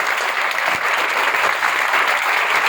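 Audience applause for a student selected for the Indian Navy SSR at a coaching-class event, a loud, dense, even wash of clapping from a large crowd, sustained throughout without a break.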